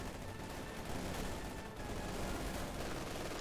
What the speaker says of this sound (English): Oh, MG42 to the rescue!